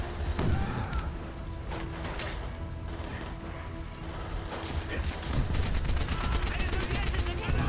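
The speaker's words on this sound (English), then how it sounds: "And another nade, and another nade" Grenade blasts and gunfire in the World War II shooter World at War rattle in dense bursts, with repeated booming impacts and crackling shots under a loud, continuous battle din.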